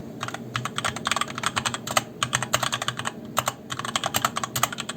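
Rapid typing on a HyperX Alloy Origins/Core mechanical keyboard with red switches, a dense run of crisp, close key clicks that pauses briefly now and then.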